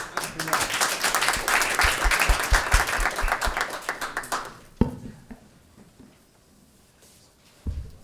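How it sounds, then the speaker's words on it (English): A crowd claps for faculty presenters at a Center for Political Economy spring showcase, a loud, dense burst of applause lasting about five seconds before cutting off into quiet room noise with a couple of soft knocks. "Let's give them all a big round of applause"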